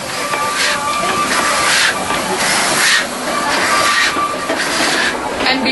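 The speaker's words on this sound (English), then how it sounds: "As the train stops, remember not to board or leave a moving train." A train on a heritage railway rumbles steadily with a broad hiss and faint metallic squeal from the wheels as it slows, loud and continuous without speech.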